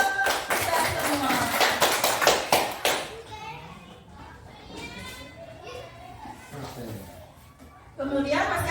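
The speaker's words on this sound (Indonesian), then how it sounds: "tepuk tangan untuk kita semua" Children in a classroom clap together in a brisk burst of applause, sharp overlapping hand claps for about three seconds, followed by lively children's chatter and voices, with another clapping burst near the end.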